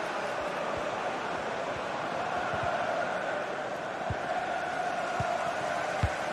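Stadium crowd noise from a tense Arsenal derby: a steady, dense roar of thousands of voices held at an even level throughout, with a few dull thuds under it and no clear commentary.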